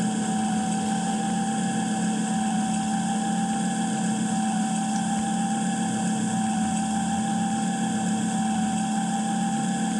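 A car engine drones in a driving video game, a constant, even hum with a steady whining tone and no change in pitch, heard alone.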